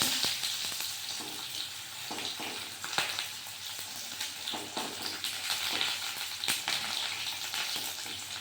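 Sliced onion frying in hot oil with bay leaf and whole cumin, a continuous close crackling sizzle with small pops, steady throughout with no talk.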